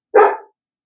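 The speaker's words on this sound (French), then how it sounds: "Ah, c'est le chien qui gueule." A single short dog bark, loud and close, standing alone against silence in a home where people are moving in.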